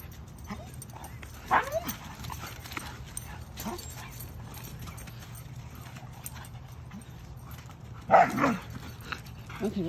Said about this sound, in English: ended up running sideways, whining, barking, expressing his frustration.